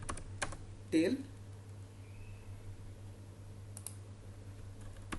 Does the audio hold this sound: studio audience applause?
no